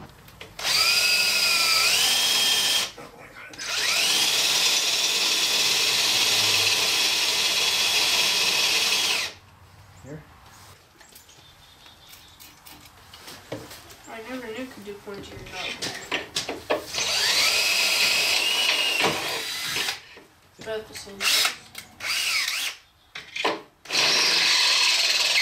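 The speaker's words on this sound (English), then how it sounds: "I gotta drill all the way through the second one too." A power drill bores through bolt holes on a utility trailer while removable sides are being added, with long sustained whining runs that stop and restart, separated by handling clatter and a few spoken words.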